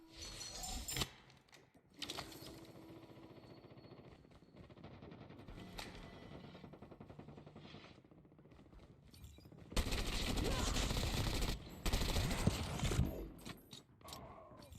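Bursts of rapid automatic gunfire in the battle royale video game Call of Duty: Mobile, with sustained rattling volleys, mechanical clacks and pauses between strings of shots at moderate loudness.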